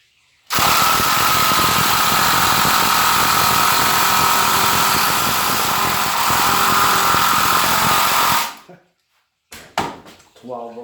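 A 12 volt DeWalt drill and an 18 volt Ridgid drill run together at full speed in a loud, sustained whine lasting about eight seconds before cutting off, followed by brief clatter and a voice.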